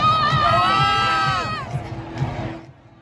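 A crowd of people near 20th and Market in Denver cheers and screams loudly, with sustained whoops and shouts fading toward the end.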